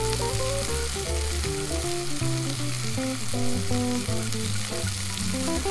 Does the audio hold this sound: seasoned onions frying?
yes